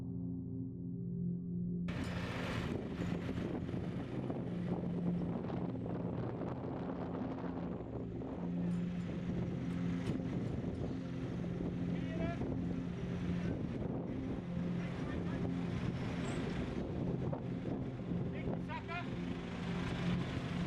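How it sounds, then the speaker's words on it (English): Steady wind gusting around 20 knots roars across the microphone at a harbour during mast stepping on a Volvo 65 racing yacht, with a low rumble of machinery or an engine underneath throughout. "the wind, because it's still gusting 20 knots"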